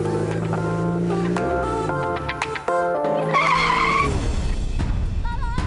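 An off-road car skids to a sudden stop on an outdoor weekend trip, with a loud tire screech and engine whine that cut off abruptly, followed by rough rumbling noise.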